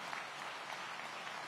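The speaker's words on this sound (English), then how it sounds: "Let's give these fine leaders a round of applause." Audience applause honoring police leaders at a city public safety event in Aurora, a brief, soft wash of clapping heard from a distance.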